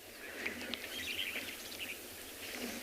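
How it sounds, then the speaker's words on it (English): Starlings chattering and chirping outdoors on a South African morning safari, a busy mix of short bright calls over steady ambient noise, moderately distant and fairly faint. "Starlings are particularly noisy."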